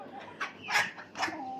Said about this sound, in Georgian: გაყარე რა ქათმები მაგედან